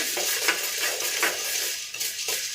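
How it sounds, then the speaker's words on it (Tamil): Sorghum and maize dry-roasting in a pan, stirred in repeated scraping strokes over a steady dry hiss, close and fairly loud with no voices. "சோளம் நல்லா வறுபடணுங்க"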